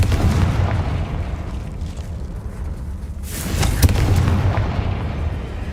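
A Confringo fire spell from Hogwarts Legacy goes off in a loud explosive boom, with a sharp crack just under four seconds in, over a steady rumbling game soundscape.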